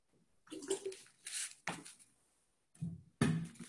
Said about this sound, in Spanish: Yo me tomo un chupito de agua.